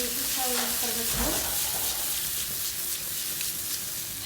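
Potatoes sizzle in hot oil while being stirred in a pan, with a steady frying hiss throughout and a brief scraping stir near the start.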